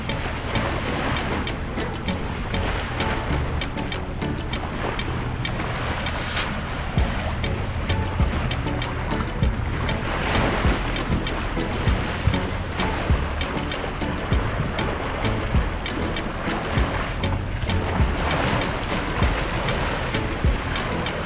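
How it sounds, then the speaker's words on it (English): A sailboat's engine runs at sea while motoring at about five knots, a constant, loud, broadband drone blended with rushing water and wind wash, steady and unbroken throughout. "the engine has been working all day"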